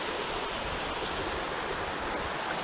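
A rain-swollen stream rushes along the Mt. Colden Trap Dike hike in a loud, continuous, close roar of churning water with no pauses.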